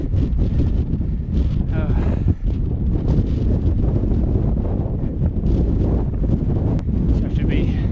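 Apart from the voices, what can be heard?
strong wind at mountain summit, Pic Saint-Michel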